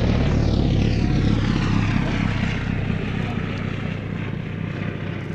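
Vintage propeller aircraft at the Shuttleworth race day air show, a Hawker Hurricane taking off as a Swift lands, give a loud, steady engine roar that fades slightly while staying close and continuous throughout.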